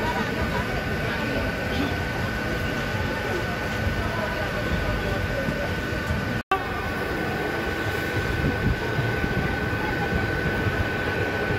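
A train at Sheikhpura railway station rumbles at platform number 1, a loud and continuous mechanical roar lasting throughout with one very brief dropout.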